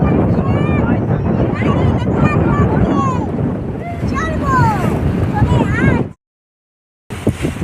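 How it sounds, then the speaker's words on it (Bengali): Strong wind on a river launch in the Sundarbans buffets the microphone with a roaring rush while people talk over it, then the sound cuts out briefly before returning. "কি হাওয়া চলছে বাবারে"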